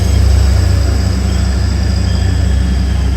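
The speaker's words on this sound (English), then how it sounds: "Our Grand Central one is leaving on the left." A Grand Central passenger train pulls out of a station near Brough on a UK railway. It gives a loud, close, steady diesel drone with a rhythmic low throb that holds for about three seconds.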